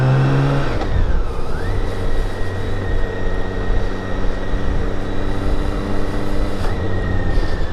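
A 2014 BMW K1600GT motorcycle's engine hums loud and close while riding, the pitch sliding down briefly then climbing and holding under steady acceleration with wind noise, no talking.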